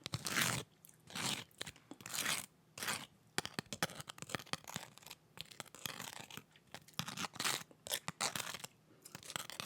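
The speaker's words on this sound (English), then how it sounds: "Why are you tapping on the chip?" Pickle-flavored Lay's potato chips being tapped and crunched up close, with bursts of loud crisp crunching separated by short pauses and quieter tapping and rustling between bites.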